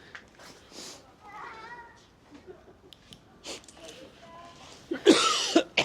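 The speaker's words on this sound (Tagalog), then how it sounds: "Medyo inuubo ako dito." A cough near the end, loud and close, after quieter sounds and a few soft meow-like tones.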